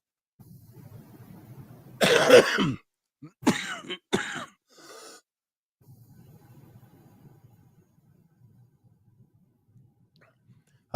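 A fit of harsh, sputtering coughs and throat clearing in quick bursts after cough drop liquid went down the wrong pipe, then quiet, faint breathing.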